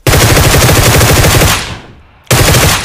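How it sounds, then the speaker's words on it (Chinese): Loud, close automatic gunfire in a shooter game: a rapid, steady burst for about a second and a half, a short tailing pause, then another burst starts abruptly. "中了两枪没秒掉"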